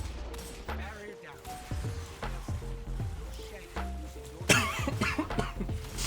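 Several short, sharp coughs break up a stretch of talking, with a louder burst of noise near the end.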